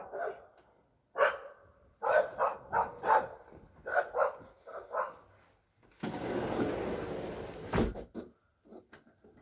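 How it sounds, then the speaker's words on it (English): Dogs bark repeatedly in quick clusters at moderate distance, then a steady rushing noise takes over, with a few more faint barks near the end. "now that I'm back here, they're barking"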